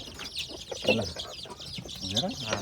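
Chickens cluck in short bursts close by on a Nepali homestead, with a person's voice mixed in among the calls.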